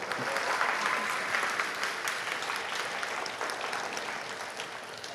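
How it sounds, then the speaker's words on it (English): An audience at the RICA class of 2022 graduation ceremony applauds, a thick, sustained wash of clapping from a large crowd that holds steady and slowly tapers toward the end. "You can clap."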